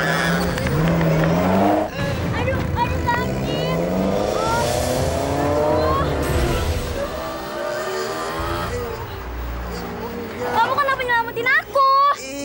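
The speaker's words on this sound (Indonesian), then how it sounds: "Kamu kan habis mau ditabrak mobil tadi." A car swerves close to a pedestrian with tires skidding and squealing, the engine loud and near, mixed with shouting voices and dramatic music throughout.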